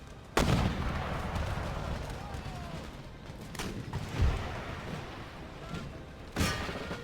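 Artillery and gunfire boom from fortress walls in Empire: Total War, with sharp loud blasts spaced a few seconds apart over a continuous battle din and distant crackling musketry.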